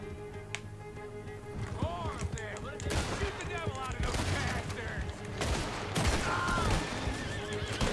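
In Red Dead Redemption 2 a horse neighs and whinnies repeatedly while galloping hooves drum underneath, amid a busy mix of gunfire and game effects. Voices talk over the action.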